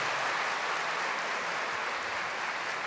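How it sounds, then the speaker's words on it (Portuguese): A church congregation breaks into applause, a dense, even roar of many hands clapping at once, sustained without pause and filling the room. "Aí agora sim você pode aplaudir as pessoas mais felizes da face da terra"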